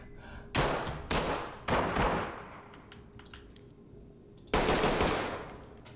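Bursts of gunfire from the tactical shooter video game Ready Or Not: three quick loud shots in succession, a quieter gap with faint game ambience, then another heavy blast near the end, no speech.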